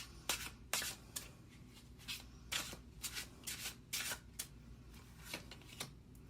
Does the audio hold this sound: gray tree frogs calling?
no